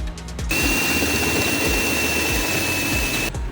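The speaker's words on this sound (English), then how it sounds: "we're going to drill a hole for that wiring harness" A power drill with a 2 1/4 inch hole saw spins up and grinds steadily through material for a few seconds, close by, then stops.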